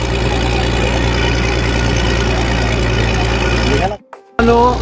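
Steady boat engine drone aboard a ferry bound for Janjira Fort, heard from the upper deck, loud and continuous with a constant low hum, cutting out briefly near the end before resuming.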